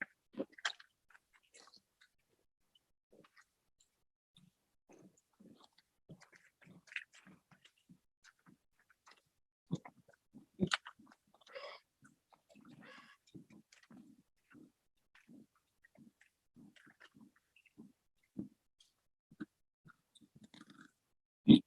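Crunchy fried grasshopper chips are chewed in short, faint crunching bites with a steady rhythm, close to the mouth, with quiet pauses between chews.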